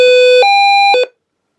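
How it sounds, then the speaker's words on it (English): A weather radio's SOS alarm blares loud and close, a sharp electronic siren tone stepping between two pitches in short bursts before cutting off to silence. "we'll see if I can do the SOS alarm"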